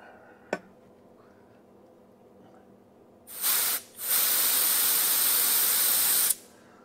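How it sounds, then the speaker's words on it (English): Compressed air blasted through a nozzle tube to dry it on a ProtoMAX machine, a sharp click followed by two loud hissing bursts: a short spurt, a brief gap, then a sustained blast that cuts off abruptly. "run compressed air through the nozzle"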